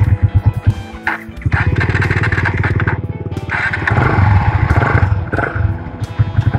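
A 2018 Kawasaki W175 motorcycle starts up and settles into a fast, close, loud idle. Its single-cylinder engine putters with a steady throb that rises slightly partway through.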